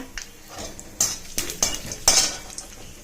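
Chana dal, urad dal and cumin frying in oil in a kadai after mustard seeds pop, a soft sizzle under several sharp metallic scrapes and clinks of a stirring spoon.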